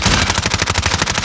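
Rapid automatic gunfire in Call of Duty: Modern Warfare, a loud, close burst of evenly spaced shots rattling in quick succession for just over a second.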